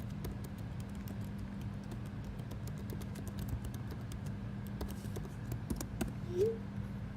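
Typing on a computer keyboard: a quiet, irregular run of light key clicks over a steady low hum, with a brief squeak near the end and no talking.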